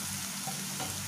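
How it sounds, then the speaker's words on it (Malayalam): Chopped ginger frying in hot coconut oil gives a brief, steady, soft hiss of sizzling with no talk. "ഞാൻ ഈ അരിഞ്ഞു വെച്ചിരിക്കുന്ന ഇഞ്ചി ഞാൻ ഈ എണ്ണയിലേക്ക് ഇട്ട് വറുത്ത് കോരാൻ പോവാണ്."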